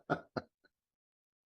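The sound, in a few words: man coughing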